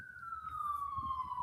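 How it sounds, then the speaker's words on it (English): An emergency vehicle siren sounds in the city, one long steady wail sliding slowly downward in pitch, moderately distant over low background rumble. "I haven't heard a siren in a week. Man, come to DC. I'm hearing one right now."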